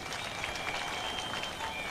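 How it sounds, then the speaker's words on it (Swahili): A crowd at an outdoor church gathering on Unoa Grounds in Wote, Makueni County, applauds in a dense, steady wash of clapping that holds evenly throughout, heard from a distance. "hebu pigieni yeye makofi."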